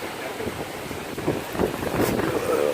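Gusty Las Vegas wind roars across the microphone in rising, uneven buffets, close and fairly loud.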